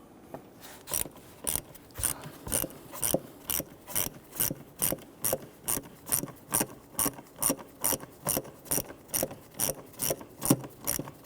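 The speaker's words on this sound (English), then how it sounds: "Using a flathead screwdriver, we can go ahead and tighten down the clamps here" A flathead screwdriver snugs down the hose clamps on the throttle body of a 2011-2021 Jeep Grand Cherokee 3.6L V6, giving a steady run of about twenty crisp, evenly spaced metallic clicks, close and alone.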